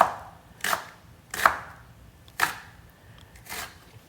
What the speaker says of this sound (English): And then just slice them as thinly as possible.